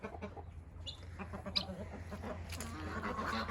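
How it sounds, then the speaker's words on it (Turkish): Tokat chickens cluck softly in a hobby coop, scattered low calls and short bird sounds over a steady background hum. "Tokat tavuklarımız"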